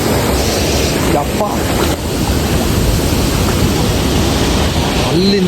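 Monsoon torrent of Honnammanahalla falls, a steady loud broadband rush of water filling the whole clip, with brief exclamations from a voice near the start and a short whistle-like tone near the end.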